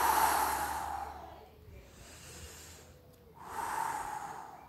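Slow, audible breaths during a guided mindfulness meditation: a long hissing exhale fades out, a quiet pause follows, then another breath swells in, close and soft with no talk.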